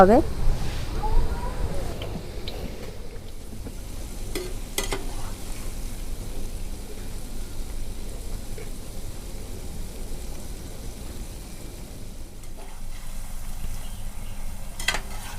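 Egg and flour sweet fritters frying in hot oil in a kadai give off a steady, moderate sizzle that holds evenly throughout, with a brief louder stir near the start.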